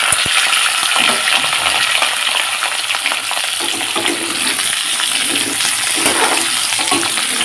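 Potato, beans, radish and eggplant tipped together into a hot wok for a spinach ghonto set off a loud, steady hiss of frying that fills the whole stretch with no talk.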